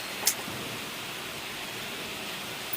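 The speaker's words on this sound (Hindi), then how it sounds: "ये देखो बारिश, स्कूल का ग्राउंड पूरा पानी से भर चुका है" Steady rain falls on a school ground flooded with water, a continuous wash of hiss with one brief sharp tap near the start and no talk.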